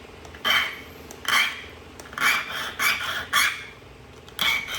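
Tallahatta agate is sharpened by flint-knapping, five or six short scraping rasps at an irregular pace, each a brief gritty burst against a quiet background, close and clear.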